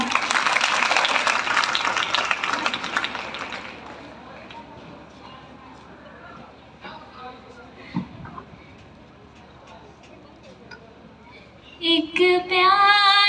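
An audience at a farewell ceremony claps loudly at first, then the applause fades to scattered claps. An isolated thump follows, and a voice starts to sing at the end.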